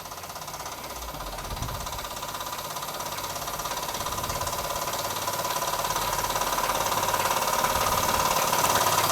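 A Swindon vertical boiler model steam engine runs steadily with a fast, even mechanical chatter and hiss that holds constant throughout, close and moderately loud with no voices.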